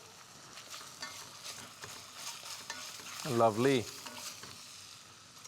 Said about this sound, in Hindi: So basically what we are doing is we are letting the lamb lose its fat.